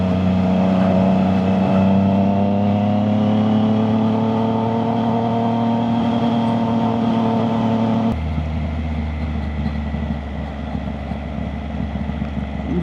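A Triumph Trident 660 three-cylinder motorcycle engine holds a steady, rising rev with a strong tonal drone, then drops sharply to a lower, rougher idle-like hum partway through, close and loud with no talk.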